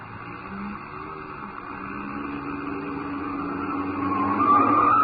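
A radio-drama car sound effect: a chauffeured car being driven fast around a corner, heard as a steady engine hum that swells and grows louder toward the end, with no voices.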